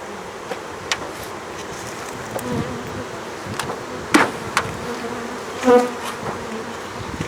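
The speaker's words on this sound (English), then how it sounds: "these bees have quite a temper" Angry honey bees buzz and hum continuously at close range, with sharper bursts as individual insects fly past.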